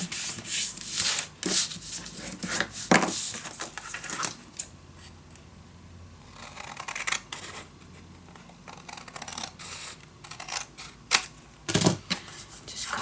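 Sheets of art paper being folded in half for a handmade mini album, a string of close crisp rustles, creases and taps with quieter gaps, no talk.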